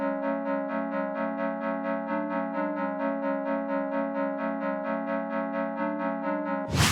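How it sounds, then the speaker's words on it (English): A bright synth pluck preset from Pandora in FL Studio repeats a steady, evenly pulsed chord pattern with close semitone note changes, clean and alone, ending with a sudden bright burst. "the sound I've picked is sort of like a pluck sound"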